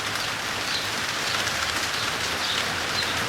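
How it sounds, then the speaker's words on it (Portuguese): Steady rain falls outdoors near a roofed shelter, a dense, even hiss of drops that continues without a break at moderate loudness, with no talking. "Nesse momento está chovendo."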